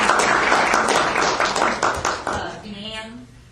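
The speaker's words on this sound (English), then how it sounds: "Now you can applaud for yourselves again." An audience at an Agriculture Hall of Fame induction ceremony gives loud, dense applause that fades out after a couple of seconds, leaving a voice speaking briefly at the end.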